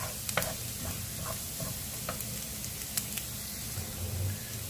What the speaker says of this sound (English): Continue stirring until you're gonna smell the aroma of the garlic.